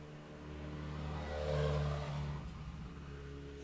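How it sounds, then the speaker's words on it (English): A motorbike speeds past outside an open window, its engine whine swelling to a peak midway and then fading, heard at a distance under a steady background hum. "I think a motorbike."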